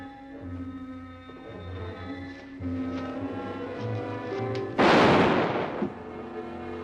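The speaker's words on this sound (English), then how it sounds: "These gunshots will bring the whole town in." Gunshots in an old Western drama, with one loud close blast standing out sharply over a quieter scene background, no talking.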